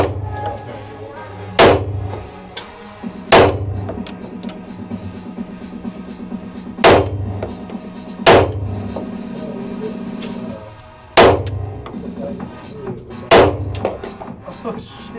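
Gunshots at an outdoor shooting range, six sharp loud reports spaced unevenly a few seconds apart over a steady low background rumble.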